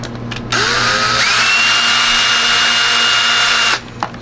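Power drill driving screws into a boat fitting for bilge pumps on a sailboat: a close, loud motor whine that ramps up in pitch and holds steady for about three seconds before cutting off.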